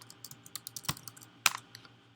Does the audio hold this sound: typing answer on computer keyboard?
yes